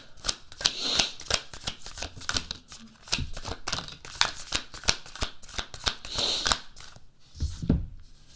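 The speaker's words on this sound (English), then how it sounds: "let's go ahead and shuffle" Tarot cards shuffled by hand in a run of crisp riffling bursts and flicks, steady and close, with a louder riffle near the end and no talk.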